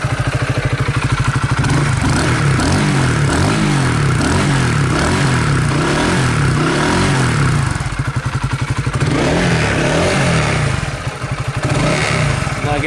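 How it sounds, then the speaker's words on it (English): A 2014 Honda CBR125R motorcycle engine catches and settles into a steady, loud, close single-cylinder idle with a fast rhythmic chug and mechanical clatter, dipping briefly near the end. "I'm gonna start her up"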